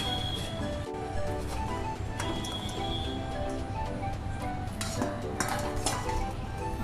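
Steamed alu vadi pieces being set onto a plate with a steady run of clinking dishes and cutlery, close and moderately loud with no talk.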